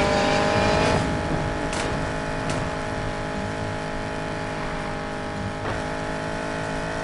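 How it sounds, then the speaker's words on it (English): Car engines in the racing game Need For Speed Payback hold a steady, droning roar near Fortune's Gamble Bridge, loud and continuous with a few faint clicks and no talk. "Better hurry, engines are revving."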